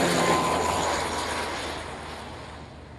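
A fixed-wing aircraft comes in to land on runway 27 at an airshow, its engine roar loud and broadband at first, then easing steadily as it passes and fades.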